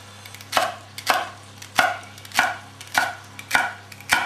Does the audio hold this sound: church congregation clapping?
no